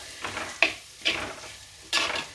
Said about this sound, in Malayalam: സവാള അതിൽ കിടന്ന് നന്നായി ഒന്ന് മൊരിഞ്ഞ് വരണം.